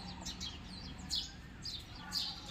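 Birds chirp in short bursts over a steady low hum, with a couple of brighter calls standing out now and then; no one speaks.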